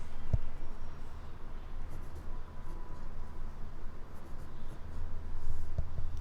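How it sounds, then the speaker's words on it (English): Pen strokes writing the Chinese radical 贝字旁 in cursive on paper, a steady soft scratching of continuous writing, close and quiet with no talking. "When you write 贝字旁 in cursive, you can write it like this"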